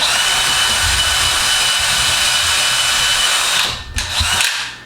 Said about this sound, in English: I'm going to take my drill and drill a couple holes